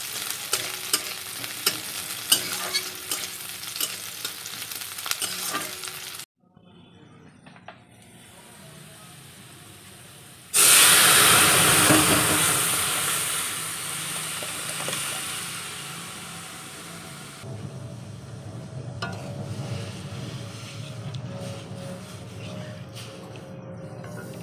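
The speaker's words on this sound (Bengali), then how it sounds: "ডালে অলরেডি কাঁচা লঙ্কা দেওয়া রয়েছে, তাই একটাই ফোড়নে দিলাম শুকনো লঙ্কা।" Dry red chili hits hot tempering oil and sets off a sudden loud, close sizzle after a quieter stretch of pan noise. The crackling hiss then slowly settles to a lower, steady fry.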